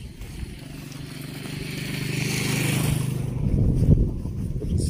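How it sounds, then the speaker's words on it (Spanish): Motorcycle engine at night, building as it approaches and passes close by, a low engine tone swelling louder over several seconds before fading into broader noise. "Y ahorita viene otra moto."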